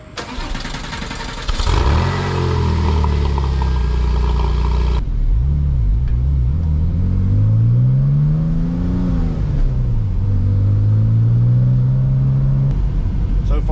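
A high-mileage Porsche 911 Turbo pulls away and accelerates hard, its engine note climbing loudly through the gears with rising and falling pitch sweeps and a steady close rumble, no talking over it.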